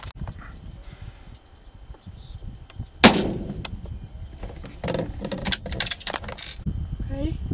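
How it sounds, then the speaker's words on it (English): A single sharp rifle shot cracks out at a prairie dog around the three-second mark, loud and close, then fades into faint outdoor rustling and handling noise with no talk. "Oh, I shot over his back."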